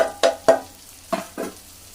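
Chili powder, coriander powder and turmeric hit hot oil with a few sharp sizzling bursts, close and fairly loud, separated by brief quiet gaps.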